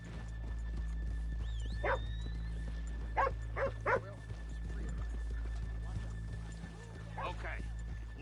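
Horses in the Red Dead Redemption 2 video game snort and shift with hoof clops over a low steady rumble, a few short animal calls rising above, while a tonal whine sits in the background.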